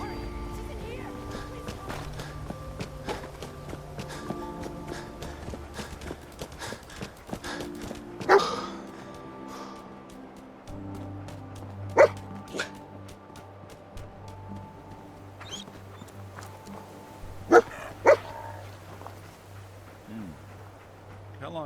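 Dogmeat, the dog companion in the video game Fallout 4, gives a few sharp barks among game sounds and footsteps, with character voices speaking around them.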